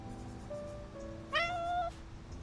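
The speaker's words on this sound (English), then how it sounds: "A stray cat guided by the smell of food approaches" A stray cat in a video game gives a single drawn-out meow over a quiet background drone, close and clear with a rising then falling pitch.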